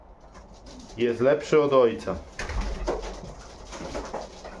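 Racing pigeons give a pair of close, throaty coos in quick succession, followed by someone speaking over faint background noise.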